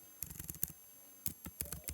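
Light clicks tap out on a computer keyboard in two quick bursts of typing separated by a brief pause, soft and close in a quiet room, with no talking.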